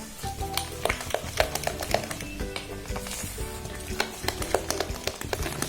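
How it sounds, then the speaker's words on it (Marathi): Dhokla batter being whisked briskly in a bowl just after Eno is added, producing quick, close, rhythmic stirring and tapping clicks against the vessel, steady and moderately loud with no voices. "आणि इनो टाकलं की लगेचच आपल्याला डबल फेटून घ्यायचंय थोडंसं"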